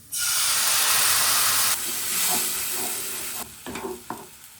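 Garlic and a mixed sauce of three kinds sizzle in a wok, a loud steady hiss for the first seconds that eases into a softer frying with a few spatula scrapes near the end.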